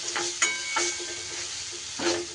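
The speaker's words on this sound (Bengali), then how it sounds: "এইভাবে একটু তেলের মধ্যে ডালটাকে বেশ ভালো করে নাড়িয়ে চাড়িয়ে ভাজা ভাজা করে নেব" Lentils frying in a little oil, with a soft steady sizzle and a few distinct scraping stirs of a spoon in the pan, close and alone.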